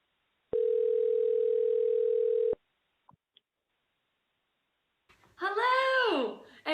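A steady telephone dial tone holds for about two seconds, loud and clean against silence, followed after a pause by a burst of bright electronic chirps.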